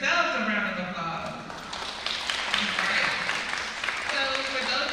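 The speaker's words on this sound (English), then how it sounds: "give yourselves a round of applause" Parents at a ninth-grade high school parent coffee meeting applaud themselves, a steady wash of hand clapping across the room lasting the whole stretch, with a voice speaking over it at the start.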